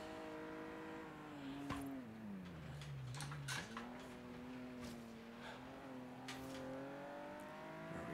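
A Lotus race car engine in Forza Horizon 3 drones steadily, its pitch dipping and climbing through gear changes and corners, with brief tire squeals and clicks over a constant engine hum.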